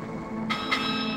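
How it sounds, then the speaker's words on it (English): Bell in The 7th Guest VR video game, struck twice in quick succession with bright metallic rings that linger over a low hum. "Why does this bell ring?"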